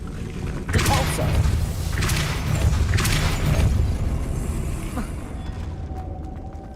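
The Depulso force spell being cast in Hogwarts Legacy, three heavy whooshing blasts in a row, loud and close, each with a booming thud, then fading into a quieter rumble.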